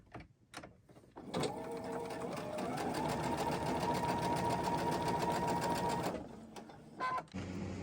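A sewing machine joins quilt strips in one long, steady run of rapid stitching lasting several seconds, close and clear, with brief handling clicks before and after and no talk.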